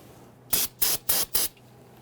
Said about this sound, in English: We're going to give that a quick spray with some solvent.